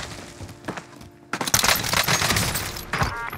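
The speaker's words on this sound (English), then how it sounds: "I'm under fire." Gunfire in a war video game: dense bursts of rapid shots and sharp impacts that start loud after a short lull and keep crackling close by.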